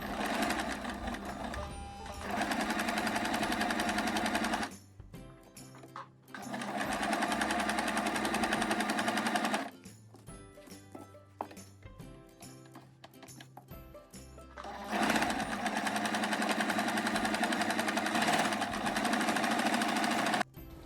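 Sewing machine stitching a fabric face mask: three long, loud runs of rapid mechanical whirring, separated by short gaps with fabric handling.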